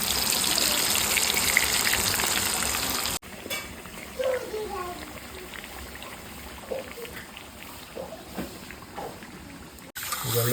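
Chicken frying over a wood-fired stove gives a loud, steady sizzle for about three seconds, then drops to a quieter crackle with scattered pops while a voice briefly sounds in the background.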